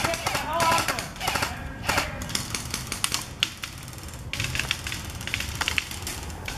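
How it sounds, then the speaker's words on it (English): Airsoft guns at an open-play field fire in rapid clattering bursts mixed with single snaps, fairly close, while players talk nearby. "He's dry firing, it sounds like."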